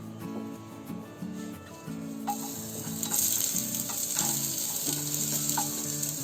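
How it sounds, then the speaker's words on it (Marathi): Lengthwise-sliced onions fry in a pan for maswadi rassa curry, giving a steady close sizzle with occasional stirring scrapes throughout; no one speaks. "आम्ही कालवणासाठी म्हणून तो उभा चिरलाय आणि हा फ्राय करून आपल्या घेते"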